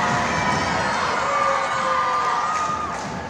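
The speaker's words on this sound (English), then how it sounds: "the crowd was cheering for both teams and all players" A crowd in a gym cheers at a unified basketball game in Chehalis, making a steady, loud wash of shouting and whooping with a few higher voices rising above it, continuous throughout.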